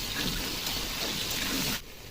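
Potatoes coated with a little turmeric fry in oil left from browning onions, a loud dense sizzling hiss close by that drops off abruptly near the end.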